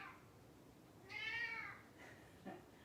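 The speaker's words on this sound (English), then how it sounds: "My cat decided that she is going to be vocal this morning" An indoor pet cat gives one clear, drawn-out meow at low volume during a quiet yoga class, then a brief faint chirp shortly after.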